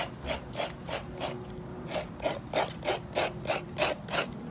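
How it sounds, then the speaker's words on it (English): Fresh coconut grated by hand for a Guyanese fish curry, rasping in a quick steady rhythm of about a dozen close, scratchy strokes with no talk. "But I'm gonna grate my coconut quickly, like this."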